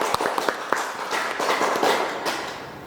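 Parents are applauded at a children's Sunday school Christmas celebration in Horong Kecil in December 2020, beginning with a few scattered claps that swell into fuller group applause and then gradually taper off.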